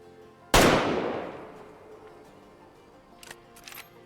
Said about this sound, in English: I tried for a heart shot there.